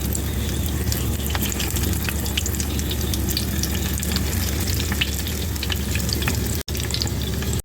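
Onions fry in oil in a kadai, giving a dense, continuous sizzle that stays loud and even throughout, with a brief dropout near the end and no talking.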